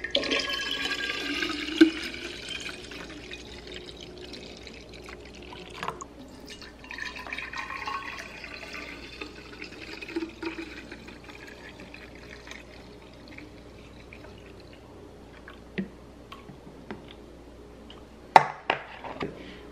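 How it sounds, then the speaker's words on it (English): Juice poured into small IKEA jars, a soft running trickle and dripping of liquid at close range, with light clinks and knocks of the jars and a couple of sharper taps near the end. "I bought these little jars like this at IKEA, and I'm about to put some juice in it."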